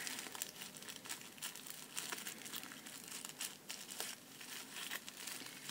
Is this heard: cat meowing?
no